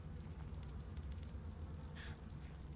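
A campfire in the survival game ARK: Survival Evolved crackles and hisses quietly and continuously, with a few sharper pops, and no one speaking over it.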